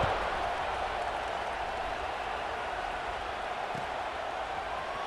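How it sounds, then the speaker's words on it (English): A dense, steady roar of cheering fans fills a college football stadium at an LSU versus Florida game just after a score, with a faint commentator's voice under the crowd noise. "this crowd is buzzing after that last score"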